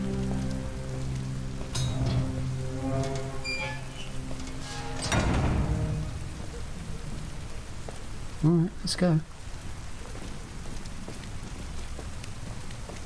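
Steady rain pours on surfaces throughout a rainy street scene in the video game Detroit: Become Human, with a brief low rumble partway through and two sharp bursts near the end, while voices talk over the downpour.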